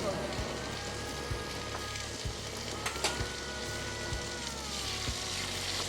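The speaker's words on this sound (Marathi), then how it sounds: "साजूक तुपाची फोडणी" Ghee tempering sizzles steadily in a pan alongside potatoes, a soft continuous hiss with faint crackles and occasional light taps of utensils, fairly quiet throughout.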